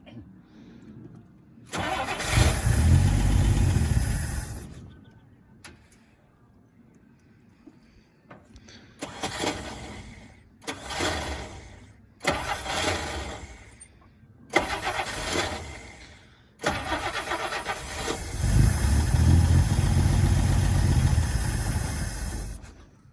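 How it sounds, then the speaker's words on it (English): A 1962 Rambler car engine cranks and fires in several loud bursts separated by pauses, then catches and keeps running at a rough idle, with no voices over it. "Let it idle till it pumps gas."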